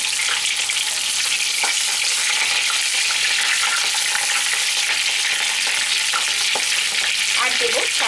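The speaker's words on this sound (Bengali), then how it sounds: "এবার আমি পটলগুলো ভেজে নেব।" Pointed gourds (potol), slit along the sides, frying in hot oil: a loud, steady, crackling sizzle that continues without pause, with occasional pops.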